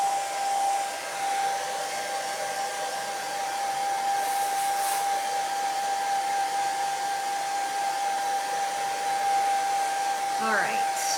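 A hair dryer blows steadily over canvas, a constant close whine and rushing air that runs unbroken the whole time, with a faint brief clatter near the end.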